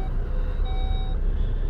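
2020 SEAT Ateca FR power tailgate opening from inside the cabin: a steady electronic warning tone sounds for about half a second over a constant low hum.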